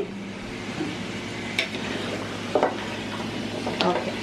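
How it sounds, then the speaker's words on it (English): Olive oil sizzles steadily in a pan while food is tossed and stirred for a Greek white bean soup, with a few sharp clinks of utensil against the pan cutting through the frying hiss. "I'm just gonna add a little more olive oil. I'm gonna toss it around."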